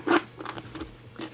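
A zipper on a white Dr. Martens Jadon boot is pulled in short, close rasping runs, a strong burst at the start followed by quieter zipping strokes.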